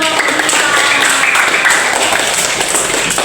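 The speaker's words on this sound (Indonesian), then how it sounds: "Oke, tepuk tangan." A crowd applauding, with dense, steady clapping filling the room from start to finish and a faint voice underneath.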